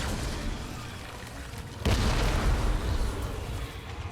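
Bombs exploding in Marvel's Guardians of the Galaxy video game, a loud rumbling blast hitting partway through over continuous roaring game noise.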